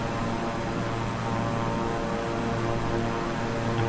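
Beechcraft 350i King Air twin turboprop cruising in Microsoft Flight Simulator, a constant, even propeller and engine hum at moderate volume, unbroken and without speech.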